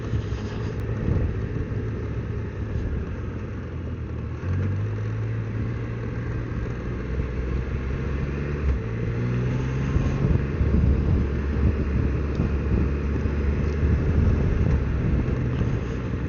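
A Can-Am Canyon off-road vehicle engine runs at high RPM on a mountain trail, a loud steady drone whose pitch shifts in steps as the revs change, with constant wind and road noise and no speech.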